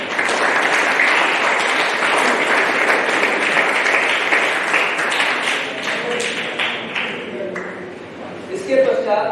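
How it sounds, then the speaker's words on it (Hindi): Students at an inter college in Ghaziabad clap loudly after a week-long scout programme, a full sustained round of applause that thins and fades out while a voice begins to speak. "एक बार जोरदार तालियां आपके।"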